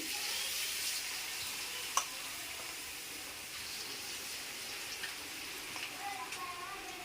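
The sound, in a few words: pakodi batter frying and sizzling in hot oil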